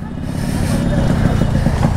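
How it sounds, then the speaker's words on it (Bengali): Yamaha RXS 115 two-stroke motorcycle engine running with a steady, rough buzzing drone that swells slightly in loudness, close by. "কি সাউন্ড রে বাবা টু স্ট্রোক বাইক অনেকদিন পরে চালাই দিছি"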